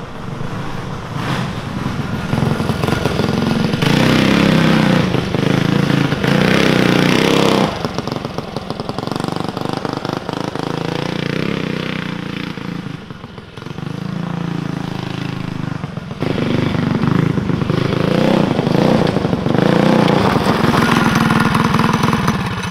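A dirt track go kart with a small engine runs steadily throughout, loud and close, with the pitch rising and falling as the throttle is worked and a brief dip in the middle.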